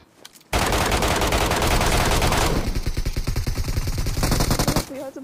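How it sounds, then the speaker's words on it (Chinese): Loud, sustained automatic gunfire from a video game, a dense rapid burst that thins into distinct repeated shots before stopping, with faint voices at the edges. "你看，开枪了"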